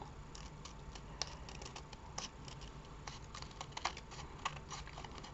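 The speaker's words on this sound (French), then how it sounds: "on va après découper tout le surplus qui dépasse tout simplement" Scissors snip away the excess paper overhanging a handmade card, a quiet run of quick, irregular crisp cuts and light rustling up close.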